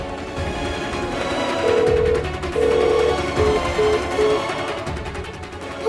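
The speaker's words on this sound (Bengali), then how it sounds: "শিনকে ফোন করি" A telephone rings in a tense domestic drama scene, with short repeated electronic tones in a steady pattern over low background sound.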